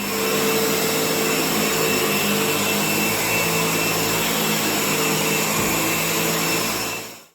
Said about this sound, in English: Right, the hoovering done.